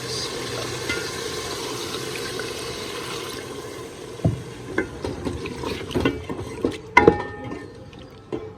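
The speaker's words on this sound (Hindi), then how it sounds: "अभी इसमें शोरबे के लिए पानी डालते हैं।" Water poured into a cooking pot of browned handi meat to make broth, a low steady trickle and splash followed by clinks and knocks of the pot and utensils, moderately faint.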